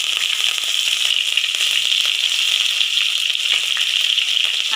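Green chillies drop into hot oil with whole spices and bay leaves for rajma curry, setting off a loud, close, continuous hissing sizzle with fine crackles throughout.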